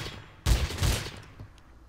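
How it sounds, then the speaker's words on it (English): Rapid gunfire in the Trouble in Terrorist Town game, a couple of loud close bursts of shots followed by a decaying tail. "Jazzy's now just shooting everybody"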